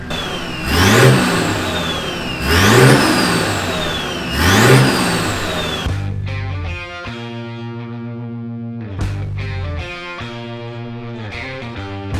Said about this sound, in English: There's no other reason why I'd be revving it right now.